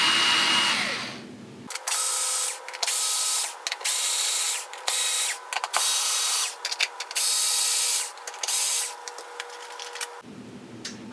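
A power drill unscrews the lid screws of a large DIY electric longboard battery box, running in repeated loud whirring bursts with short pauses between them, alone without talk.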